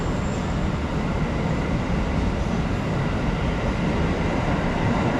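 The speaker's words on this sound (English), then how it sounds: "The Jakarta commuter trains, like this one, pass through frequently, but very few of them actually stop here." A Jakarta commuter train rolls through Gambir station without stopping, a dense, loud rumble of wheels and carriages sustained throughout with faint rail clatter.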